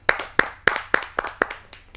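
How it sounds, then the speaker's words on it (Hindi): Audience at a Hindi kavi sammelan poetry gathering claps to welcome a poet from Shimla onto the stage, six or seven sharp bursts of clapping in a steady rhythm, fairly close, with no talking. "चाहता हूँ शिमला से पधारे हुए पवन शर्मा जी को आप सबकी ज़ोरदार तालियों से"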